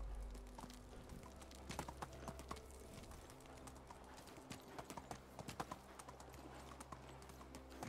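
Horse hooves clip-clopping in the video game Medieval Dynasty, a steady rhythmic trot of fairly quiet hoofbeats with faint birdsong in the background.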